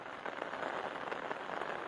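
Heavy rain pours steadily across a street in Jammu, a dense, continuous hiss of drops drumming on surfaces with no pauses and no voices.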